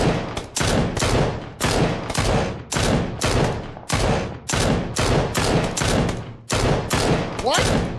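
Gunfire in the video game PUBG, loud rapid bursts of automatic shots repeating about ten times with brief gaps, heard as if shooting through a wall, with talk mixed in.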